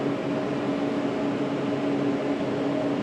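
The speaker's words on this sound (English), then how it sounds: "we've got a dehumidifier in here" A dehumidifier running: a steady, even mechanical hum with a broad whooshing airflow, unchanging throughout.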